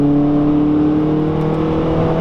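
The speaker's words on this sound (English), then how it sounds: "Engine really brings a smile to your face every single time you hit the gas" A Honda Prelude's VTEC engine pulls hard under acceleration, a loud, steady, close-up whirring drone with strong tonal harmonics and no talking over it.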